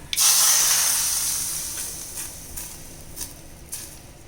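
A hot tempering with curry leaves poured into onion sambar bursts into a loud sizzling hiss that fades away over a few seconds, with a few faint crackles after.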